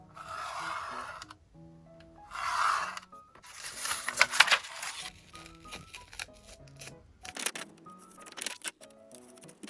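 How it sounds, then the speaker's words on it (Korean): Wave-edge scissors cut through a decorative sticker during a vintage Christmas journal-decorating session, giving several short crisp snipping and rustling bursts of paper handling, close and clear against a quiet room. "이거를 위에 물결 가위로 잘라볼까요?"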